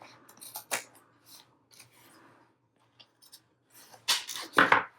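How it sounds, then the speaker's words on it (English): Scissors trim a paper tag in a few short, crisp snips, close and fairly quiet, with soft rustling of paper between the cuts. "And then let's trim this off."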